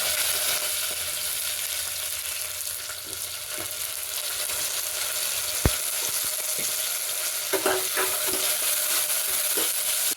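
Onions with ginger-garlic paste fry steadily in a pressure cooker, a continuous close sizzle broken by a few sharp scrapes and clicks of stirring near the middle and end.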